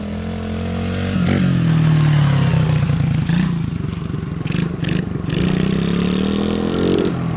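A Beta 300 dirt motorcycle engine revs hard, close and loud, climbing and falling in pitch with bursts of throttle and some mechanical clatter, running continuously throughout.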